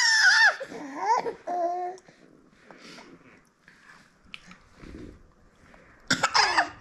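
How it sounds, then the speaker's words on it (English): A young twin gives a playful fake cough during lunch, a short burst near the start followed by quiet mouth and eating noises, with a brief louder vocal outburst near the end. "Oh my goodness, that fake cough."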